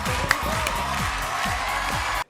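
A television talent show audience cheers and applauds in a dense, continuous roar that stops abruptly, with low rhythmic music pulsing underneath.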